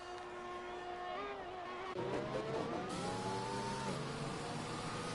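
Formula 1 cars in the F1 2021 video game at the Baku Grand Prix, running in a line behind the safety car: sustained, close engine whines whose pitch rises and falls as they shift and accelerate, continuous throughout.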